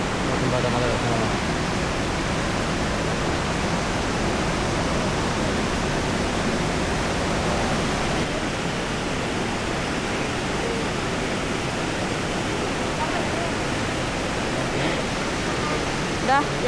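A river stream rushing beneath a bridge at Situ Gunung, Sukabumi, a loud, steady broadband roar of flowing water that fills the scene throughout without a break.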